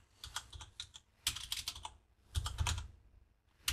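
Close, rapid clicking of a computer keyboard comes in quick bursts as a command is typed into a terminal, with brief pauses between the runs of keystrokes.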